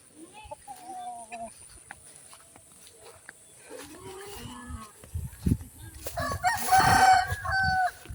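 Chickens at a farm chicken coop crowing and clucking in repeated calls, with a rooster crow ringing out loudly near the end, while people talk nearby.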